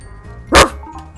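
A hunting dog named Lucky in the video game Fantasy Life lets out a single sharp, close bark, brief and alone against a quiet background.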